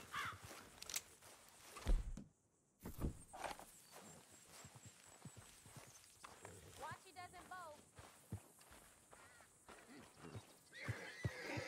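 In Red Dead Redemption 2, a horse whinnies in a wavering call midway through while hooves clop and shuffle nearby, mixed with scattered thumps and bursts of talk.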